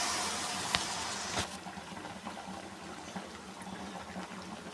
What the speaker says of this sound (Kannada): ನಾನು ಒಂದು ಕಾಲು ಗ್ಲಾಸಷ್ಟು ಜಾರಿಗೆ ನೀರು ಹಾಕ್ಕೊಂಡಿದ್ದೀನಿ ಅದನ್ನು ಹಾಕೋತಾ ಇದ್ದೀನಿ